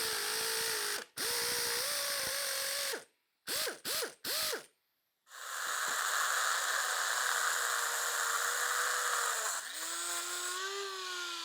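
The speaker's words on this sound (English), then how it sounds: "All I'm doing is using the double nut method. So I just lock the 2 nuts together and then they come right off." A ratchet wrench clicks loudly and close up while backing out Porsche 915 transmission studs locked with two nuts. Bursts of rapid ratcheting are broken by short pauses, then a longer continuous run follows.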